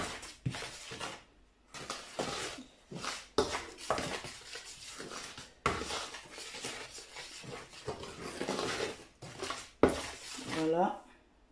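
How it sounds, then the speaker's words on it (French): Bread dough being mixed with salt in a bowl gives irregular clinks, scrapes and knocks of utensil against bowl, close and moderately loud, interleaved with a person talking. "donc je mélange"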